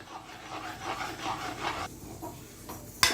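Raw, unroasted rice flour dough for ulundhu kozhukattai is stirred in a pan, giving a steady, soft scraping and rubbing sound in repeated strokes, then a brief pause and a single sharp knock at the end.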